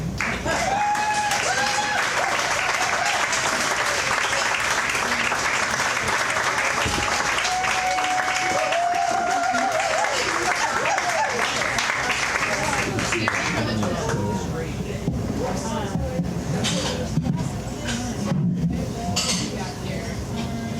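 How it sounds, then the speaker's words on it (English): An audience at a poetry reading breaks into sustained, dense applause that fills the room, mixed with clinking glasses and cutlery. Voices and chatter come through beneath it, and the clapping thins toward the end. "Please give a warm Rivertown applause and welcome to Abby B. Bogomolny"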